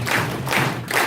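An audience claps together in unison, three broad, muffled claps spaced evenly and rhythmically, close and full, with no talking.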